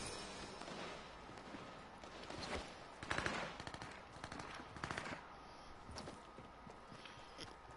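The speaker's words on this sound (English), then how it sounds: "There's some active shooting over here" Gunfire in the Fortnite video game, scattered bursts and single shots at mid distance, loudest around the middle, over a steady background of game ambience.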